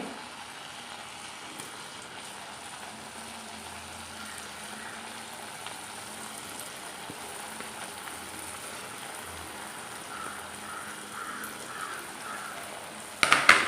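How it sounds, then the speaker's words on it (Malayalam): Potato smileys deep-fry a few at a time in hot oil over a medium flame, making a soft, steady bubbling sizzle throughout, with a brief clatter right at the end and no voices. "ഞാൻ കുറച്ചെണ്ണ ഒഴിച്ചിട്ട് കുറേശ്ശെ കുറേശ്ശെ ഇട്ടാണ് വറുത്ത് പൊരി എടുക്കുന്നത്"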